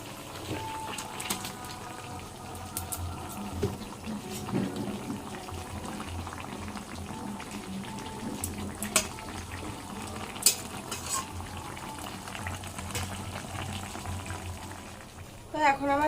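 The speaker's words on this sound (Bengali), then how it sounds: "এবার ঝোলটাকে ফুটতে দেবো, ফুটে উঠলে মাছগুলো দিয়ে দেবো।" Pomfret fish curry with aubergine bubbles in a pot, a steady simmering burble with occasional clinks of a utensil and a louder stir near the end.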